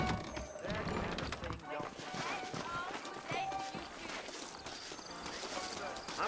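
Horse hooves clip-clop in Red Dead Redemption, a steady trotting patter running under music and game sounds with talking over it.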